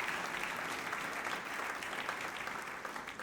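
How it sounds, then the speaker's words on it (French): A large audience applauds loudly and continuously, a dense wash of many hands clapping at once with no voices breaking through. "Est-ce qu'on peut les applaudir bien fort, s'il vous plaît?"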